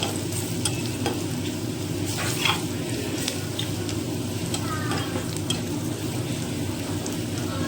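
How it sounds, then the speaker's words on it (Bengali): Ground cumin, coriander powder and salt fry in a pan while being stirred. A steady, close sizzle runs throughout, with soft scraping strokes and no talk. "এটা দিয়ে আমি ভালো করে মশলাটা ভেজে নিই।"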